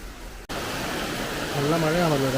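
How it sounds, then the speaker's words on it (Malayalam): Heavy morning rain pours down as a constant broadband hiss after a brief cut, and a voice begins talking over the downpour near the end. "നല്ല മഴയാണല്ലോ രാവിലെ."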